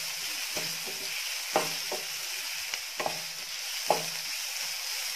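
Green chillies sizzle in oil in a pan while being sautéed for paniyaram, a steady soft frying hiss with several sharp stirring scrapes spaced about a second apart.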